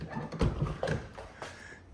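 A 1967 Alfa Romeo Giulia Sprint GT door is pushed shut, giving a few close, soft clunks and latch clicks spread over two seconds, with no voices.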